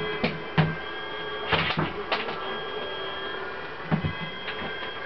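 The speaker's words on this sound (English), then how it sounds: "So the bolt is opening, guys." A mechanical bolt in the video game Portal 2 works open with a series of clunks and whirring servo sounds over a steady mechanical hum, clear and unaccompanied by speech.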